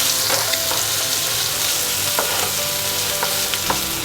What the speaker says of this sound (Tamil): இப்போ நம்ம சின்னதாக வெட்டி வச்சுருக்க வெங்காயத்தை சேர்த்துக்கலாம்.